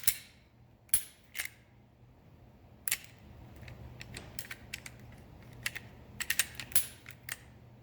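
A Glock 43 pistol is taken apart by hand, making scattered, close, crisp metallic clicks and snaps with faint handling rustle between them and no speech.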